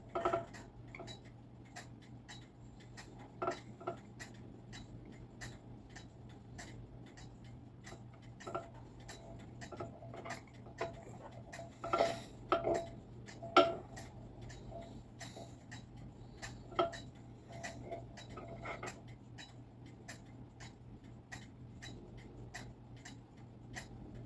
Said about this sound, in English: It should be ticking.